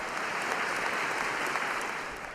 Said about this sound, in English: Only a smattering of polite applause for Kevin Wright.